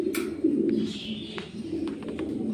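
Sirajee pigeons coo in a pigeon shop, low throaty rolling calls repeating close by, with a few faint chirps and light clicks over the top.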